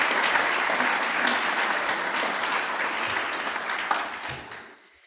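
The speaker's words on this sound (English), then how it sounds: "So please give yourself a round of applause." A university audience at a presidential address breaks into sustained applause, dense clapping that holds steady and then fades out at the end.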